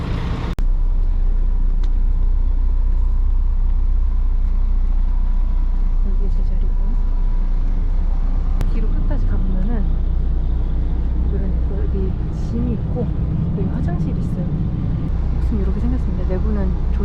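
Inside a sleeper bus riding through Thailand, a constant low engine and road rumble fills the cabin, with muffled voices surfacing over the drone in the later seconds.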